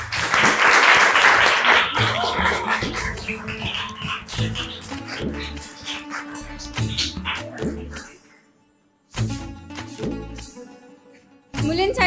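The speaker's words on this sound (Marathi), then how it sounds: "साक्षीसाठी टाळ्या वाजवा" Classroom audience at a Maharashtra school educational quiz claps for a student who answered correctly, loud and dense at first, then thinning out among other scattered sounds and a brief pause.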